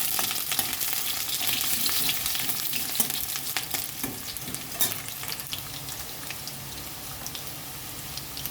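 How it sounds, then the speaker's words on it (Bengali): Large potato pieces fry in hot mustard oil with a loud, crackling sizzle full of pops and spits, steady throughout and close, with no voices. "এবার আমি এই বড় বড় করে আলু কেটে রেখেছি, এটা ভেজে নেব।"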